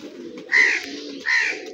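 Pigeons cooing in two clear, close phrases, each a rising then falling coo, set against a low steady background.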